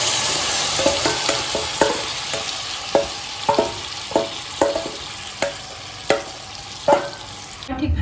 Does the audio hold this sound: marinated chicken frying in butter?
yes